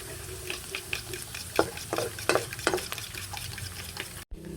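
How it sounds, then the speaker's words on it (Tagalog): Bitter gourd (ampalaya) sautés in a pan, a steady sizzle broken by rhythmic scraping strokes of stirring, close and continuous, without voices. "Bali si JJ na pa nagigisa"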